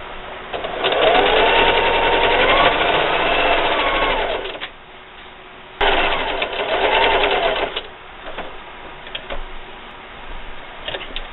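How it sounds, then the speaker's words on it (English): A sewing machine stitches quilt binding onto a table runner in two steady runs of fast, even needle chatter, separated by a pause and ending in quieter clicks and handling. "Now I'm just going to continue sewing, starting right here, and sew the rest of my binding on."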